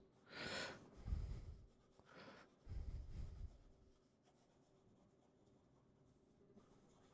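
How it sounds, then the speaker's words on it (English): An OMAS Extra Lucens fountain pen with an extra-flexible nib scratching quickly across paper in three short bursts, close and fairly soft, followed by quieter faint movement. "If we do some fast writing,"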